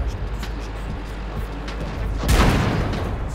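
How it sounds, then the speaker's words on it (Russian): A tank cannon shot in the World of Tanks video game, a loud sudden boom about two-thirds through that rises over steady background game noise. "Первым выстрелом Хэви меня не пробивает, вторым пробивает."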